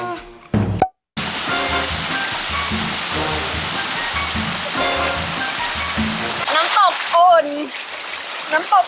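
Waterfall at the Sky Lagoon spa in Iceland, a steady broad rushing splash of falling water running for several seconds, with someone talking over it at times and a few short electronic blips.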